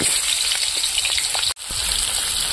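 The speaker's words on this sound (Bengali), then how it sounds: "তো এদিকে আলু ভাজা হচ্ছে" Cut potatoes fry in oil in a kadai, a loud, dense, close sizzle that drops out for an instant and then resumes, no talk.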